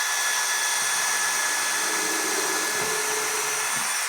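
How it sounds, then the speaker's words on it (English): Power drill boring pilot holes through wood during a workbench build, a steady continuous high whine held for about four seconds at close range, without voices. "this bit I'm using to drill the pilot holes"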